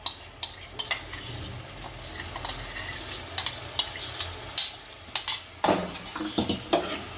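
Yogurt gravy being stirred into Rajasthani gatte curry in a pot, with repeated spoon scrapes and clinks against the pan over a soft sizzle, close and uneven in rhythm, with no speech.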